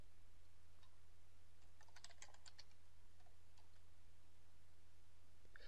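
Computer keyboard typing code: a short, faint burst of clicking keystrokes in the middle, with a few isolated taps before and after, set against steady background hiss and low hum, with no speech.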